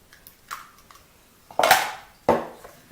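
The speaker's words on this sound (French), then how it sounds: "Je transvide mon appareil dans un saladier et maintenant, nous allons incorporer les 6 œufs." Six eggs are worked into choux pastry dough in a bowl: a spatula or spoon knocks and scrapes against the bowl in irregular bursts, with two louder clattering strikes near the end, close and otherwise quiet.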